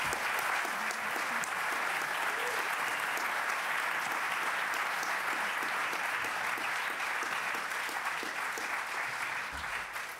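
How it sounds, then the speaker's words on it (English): Steady, enthusiastic applause from a large audience for a panel after an AI debate at Pakhuis de Zwijger fills the room continuously, dense and even throughout before tapering at the very end. "I want to give a big round of applause to our 5 panelists."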